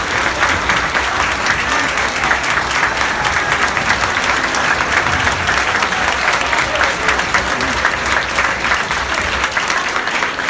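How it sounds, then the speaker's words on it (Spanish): A congregation applauding at a religious debate, a dense sustained wall of clapping from a large crowd that holds steady and loud throughout, with no clear speech over it. "Aplauso para el Señor nuestro Dios."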